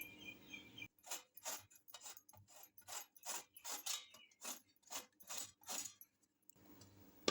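Skin is peeled from two raw Totapuri mangoes in a series of quick, rhythmic scraping strokes, close and fairly faint, about a dozen in a row with short gaps between them.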